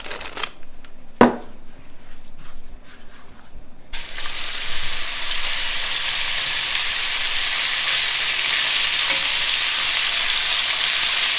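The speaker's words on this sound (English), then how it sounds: "go right in this ripping hot skillet and get it crispy" Salt-and-pepper seasoned meat hits a ripping hot skillet with a short clatter, then a loud, steady sizzle and crackle of frying builds and holds close up to the end.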